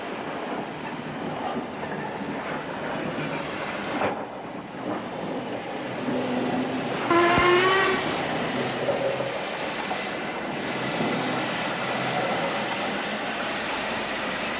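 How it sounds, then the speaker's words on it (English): A train hauled by a class 45 diesel locomotive rolls past through the back streets of Stoke-on-Trent, a steady rumbling roar that swells midway with a brief horn-like tone, then continues evenly. "the train heads south out of Stoke, passing the back streets and kilns of the city"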